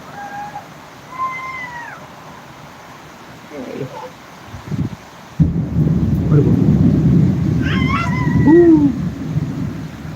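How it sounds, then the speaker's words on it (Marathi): A deep, heavy thunder rumble from a lightning strike during heavy rain in Pune breaks in abruptly partway through and rolls on, with a cat meowing and voices talking nearby. "हे बघा वीज पडली कशी"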